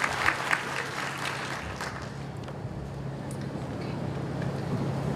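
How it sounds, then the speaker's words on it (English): Graduation audience applauding at a 2021 charter school ceremony in a high school venue, a steady wash of clapping across the room that fades slightly then holds, with a faint low hum beneath. "round of applause for our future leaders of Golden Door"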